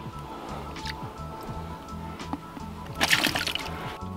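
Water and soap are poured and splashed into rich gold pay dirt during a clean-up, a sloshing, splattering pour that swells near the end over a steady low mechanical hum.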